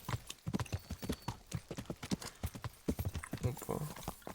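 Horse hooves clip-clop steadily in the medieval game Kingdom Come: Deliverance, a busy rhythmic clatter of hoofbeats with someone talking over it throughout.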